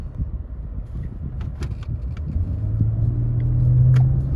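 A car engine's rumble steadily rising in pitch and loudness as it accelerates in Normal mode, heard from inside the cabin of a Toyota Highlander or Nissan Pathfinder, with faint clicks and rattles.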